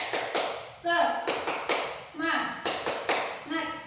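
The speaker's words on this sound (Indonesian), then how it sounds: "kita tepuk semangat terlebih dahulu" A classroom of students does a rhythmic spirit clap in unison, sharp grouped claps in a patterned beat with chanted voices between them, close and loud.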